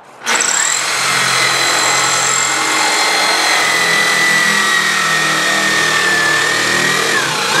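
A power drill whines steadily as it cuts into acrylic, a loud continuous grinding hum with no pauses.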